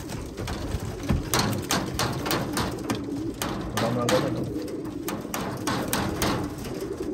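Racing pigeons at their loft give a soft, steady cooing over continuous background noise, with occasional flutters and knocks and faint human sounds nearby.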